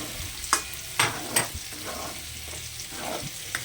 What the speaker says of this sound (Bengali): এবার আমি ভালো করে মিক্সড করে নেব।